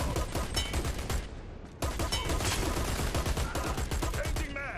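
Sustained automatic gunfire in a shooter game, dense rapid bursts and overlapping shots, loud and close, with a brief pause before the firing resumes just as heavily.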